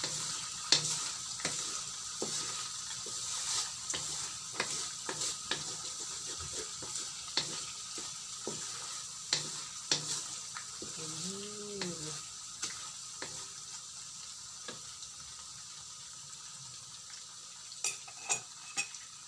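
Coconut milk fries in a pan as its oil separates, a soft continuous sizzle broken by intermittent stirring scrapes and clinks; no one talks.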